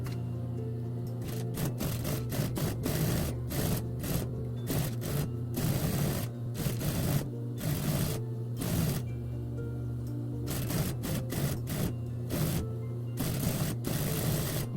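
A sewing machine stitches a seam on a fabric doo-rag in quick bursts, rapid mechanical whirring runs starting and stopping repeatedly, close and clear with no talk.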